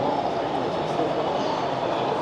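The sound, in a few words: model train passing through a city street layout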